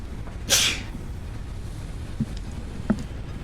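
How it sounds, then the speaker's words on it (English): A single loud sneeze bursts out near the microphone with a sharp, breathy hiss, followed by a couple of faint clicks and low background hum. "I'm gonna have to sneeze here in a second"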